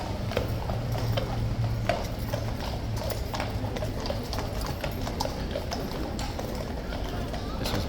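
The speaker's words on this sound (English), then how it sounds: "Horse will be led in, that's a lot of horses in the stables." Hooves of the King's Horse clip-clop at Horse Guards as horses are led into the stables, a busy run of sharp hoof strikes on hard ground with voices and crowd noise underneath.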